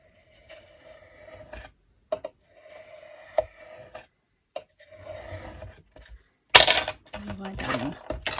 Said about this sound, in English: I'm just going to try and cut that little bit of purple off from there